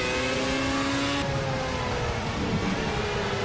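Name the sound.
loud race car engine in video game Project CARS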